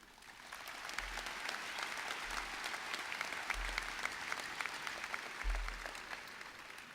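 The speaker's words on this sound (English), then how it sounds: "let's give a round of applause for those who have helped us reach this milestone in our lives" A graduation audience at a high school ceremony gives a sustained round of applause, dense steady clapping filling the hall at moderate level from start to finish with no voices over it.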